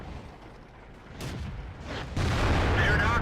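An IS-2 heavy tank's main gun fires once in a video game battle, a sudden loud boom near the end after quieter engine rumble and brief talk.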